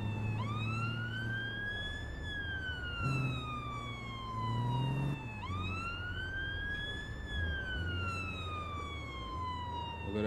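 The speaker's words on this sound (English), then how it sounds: "Look at that doggone sirens, and I'm looking at the whole map." Police sirens in APB Reloaded sweep up and down in two long wailing cycles, loud and steady over game background noise.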